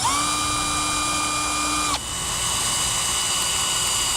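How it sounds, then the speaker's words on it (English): A power drill fitted with a 1-inch bit whines at a steady high pitch, then the motor tone drops and roughens halfway as the bit cuts, loud and close, with no speech. "Then we'll take our 1-inch drill bit, and we need to drill out both of those hole locations."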